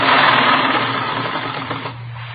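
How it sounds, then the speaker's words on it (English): A sewing machine runs in a radio drama scene, a loud, fast mechanical whir that starts strong and slowly fades as it winds down, with no voices over it. "I've got this sewing to do"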